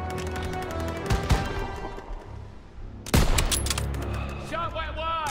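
Gunfire in the Call of Duty WW2 campaign fills the clip, with rapid bursts and single shots, loud and close, alongside in-game voices and a sudden heavier volley midway.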